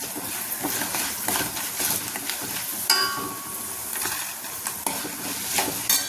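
Onions and other ingredients frying in oil in a pan for onion lemon rice, a steady close sizzle with scraping stir strokes throughout and a brighter clatter near the middle.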